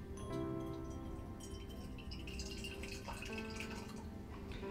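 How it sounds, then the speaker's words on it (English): Boiling water is poured into a teapot, giving a quiet, steady trickling and splashing with faint dripping for a few seconds. "take your preferred teapot, add some boiling water"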